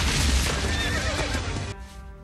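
In the animated film Mulan, a horse neighs loudly and close, a single rising whinny that cuts off sharply after about two seconds over busy rumbling background action.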